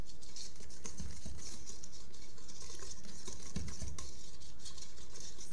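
Madeleine batter being stirred in a bowl, with quick repeated wet scraping and patting strokes in a busy, steady rhythm close by.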